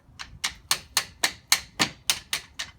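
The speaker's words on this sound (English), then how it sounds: "took my 15mm wrench, placed it on this, and then you tap it loose" A 15mm wrench taps loose a bolt on a Dodge Challenger's rear brake caliper, making ten sharp metallic knocks in a steady, fairly quick rhythm, close and clear with no talk.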